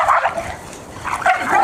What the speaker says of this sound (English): These are my two brown dogs jumping out